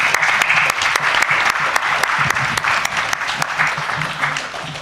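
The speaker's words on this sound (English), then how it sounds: "ladies and gentlemen, a big round of applause" Audience applause at the valedictory function of a conference, loud continuous clapping filling the room throughout with a faint murmur of voices underneath.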